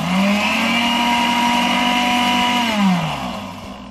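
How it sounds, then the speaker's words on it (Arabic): A blender whirs loudly and steadily as it blends gluten-free mayonnaise while oil is slowly poured in, then its motor winds down toward the end. "غادي نبدا نخوي في الزيت كيف ما كتشوفوا بشويه بشويه، وانا كنطحن."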